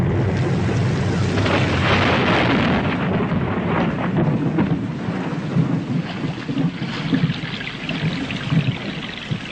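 Heavy rain pours down in Paraguay, a loud, dense, continuous roar of rainfall with deep rumbling underneath that swells and settles throughout, with no voices.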